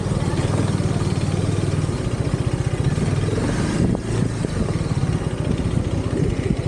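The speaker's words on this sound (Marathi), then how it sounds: "बघू आपण कुठंपर्यंत बाईक नेता येईल तेवढं नेऊ" A motorcycle rides along toward a beach, its engine a steady, throbbing low drone with a slight rise in revs midway, close and continuous under wind noise.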